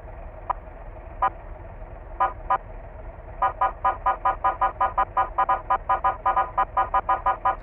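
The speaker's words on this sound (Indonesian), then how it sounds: "Untuk suaranya ini benar-benar seperti suara klakson tetot ya yang ada di mobil polisi patwal gitu ya cuy." A police escort car horn in the Bus Simulator Indonesia game gives a few spaced honks, then a fast, steady run of repeated tooting blasts, loud and clear with no talking.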